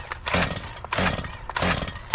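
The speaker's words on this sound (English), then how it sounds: "So I'm gonna take the Hedge shears to this one." Hedge shears cutting through a Japanese maple, three distinct snipping strokes spaced evenly about two-thirds of a second apart, close and fairly loud with a crisp blade snap in each.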